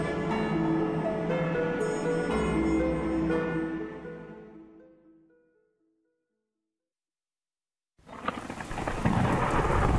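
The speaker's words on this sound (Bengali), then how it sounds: "আজ সকাল থেকে বাইরে সামান্য বৃষ্টি হয়ে চলেছে।" Rain pours loudly with deep rolling thunder for a few seconds, then dies away into complete silence before the rainfall returns just as strongly near the end, used as a storm effect in a Bengali detective audio drama.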